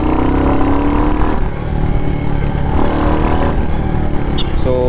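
A Royal Enfield Hunter 350 roadster motorcycle's single-cylinder engine pulls hard on the road, its loud, continuous drone rising in pitch through the gears, with wind rush steady underneath.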